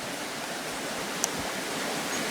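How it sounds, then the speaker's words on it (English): A river flows nearby in a remote spot as a steady, even broadband rush, moderately loud, with no voices heard. "We can not have the river drowning everything out."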